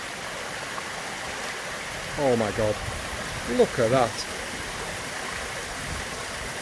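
Scale Force waterfall near Buttermere in the Lake District gives a steady, broad rushing roar throughout, while a person briefly exclaims over it in the middle.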